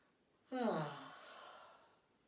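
During a seated chair yoga session for older people, one person gives a single drawn-out yawn that falls in pitch and trails off into a breathy exhale, alone in a quiet room.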